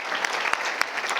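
A short burst of dense audience applause at a business club presentation, with many hands clapping together and a few sharper claps standing out, fairly loud and close.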